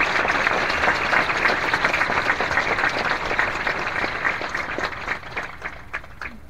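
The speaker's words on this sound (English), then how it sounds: "Please join me in applauding the amazing class of" An audience applauds the graduating class at a high school graduation, a dense, steady roar of clapping that thins slightly toward the end.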